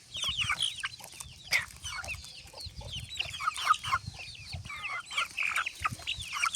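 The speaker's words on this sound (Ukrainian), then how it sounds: "О, ще домашня прийшла курочка, мабуть." Domestic hens and chicks peck at corn, giving close, busy clucking and high peeping calls that overlap continuously.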